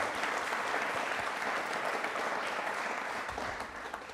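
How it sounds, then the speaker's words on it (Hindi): A studio audience at a Republic Day quiz show applauds with steady, dense clapping from many hands, held at an even level before easing slightly toward the end. "तालियां भी पराक्रम के थ्रू होनी चाहिए"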